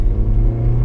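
A 2015 Subaru Legacy accelerating hard from a standstill, its engine holding high revs in a loud, steady low rumble heard from inside the car, with no talk over it.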